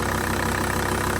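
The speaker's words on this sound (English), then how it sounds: "Idle is nice and stable." A Volkswagen Transporter T4 engine idles steadily after new PP1 injectors were fitted, giving a continuous, even drone with a low rhythmic pulse and no voices over it.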